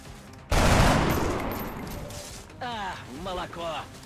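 Gunfire from the XCOM Long War strategy game, one loud burst that starts sharply and rings out, followed by a voice talking.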